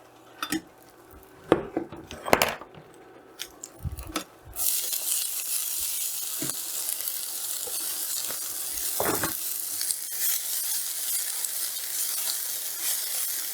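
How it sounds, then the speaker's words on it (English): Bean sprouts stir-fried in a pan after eggs, opening with loud clanks and scrapes of a utensil on the pan, then a steady, close sizzle takes over with occasional stirring knocks. "The next step is to cook the bean sprout."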